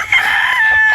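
A rooster crows loud and close, one sustained, strained call held for about a second.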